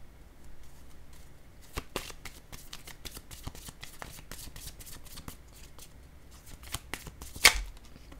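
Tarot cards being shuffled and drawn by hand, a soft continuous riffle with crisp flicks and snaps of card edges, one sharper slap near the end, close and fairly quiet with no talking.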